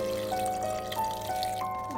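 Water is poured from a measuring cup onto soaked rice in a microwave-safe dish, a steady close trickle and splash running for about two seconds with no talking.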